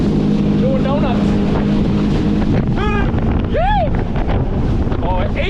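A 20-year-old jetski's engine roars steadily as it does donuts on open water, loud and close with heavy wind buffeting, while voices whoop and shout over it.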